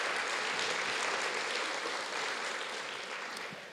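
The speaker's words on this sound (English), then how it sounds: "please give them a round of applause." An audience at a city State of the City address claps in a dense, even wash that slowly tapers off toward the end.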